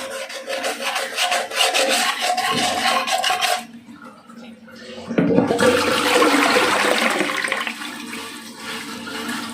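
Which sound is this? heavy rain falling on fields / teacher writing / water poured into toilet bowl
water poured into toilet bowl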